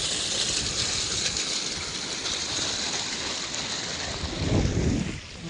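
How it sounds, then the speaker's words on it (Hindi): Irrigation water running at full flow into a farm field, a steady broadband rush and gush heard close, with wind buffeting the microphone and a louder surge near the end. "અહીંયા આપણું એલિકેશનનું પાણી તમે જોઈ શકો છો કે પાણી અહીંયા ફૂલ ચાલુ"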